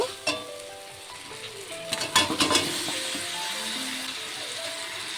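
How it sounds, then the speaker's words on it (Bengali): Mutton sizzling and frying in a pan with spices, stirred steadily with a utensil that clinks and scrapes against the metal in a burst of taps midway, over a continuous bed of hiss. "মাটনটিকে দিয়ে মশলার সাথে খুব ভালোভাবে কষিয়ে কিছুক্ষণ রান্না করে নেব।"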